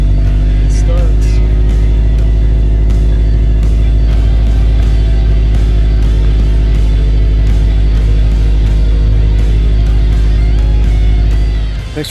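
A Subaru BRZ engine, just fitted with a new DW 300C fuel pump, idles loudly and steadily up close with a deep, constant rumble and a faint rhythmic ticking, then cuts off at the very end.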